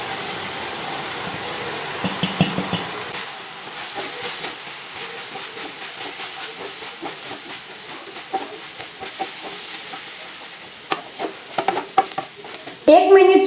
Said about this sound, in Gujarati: બાજરીનો રોટલો નાખી દઈશું હવે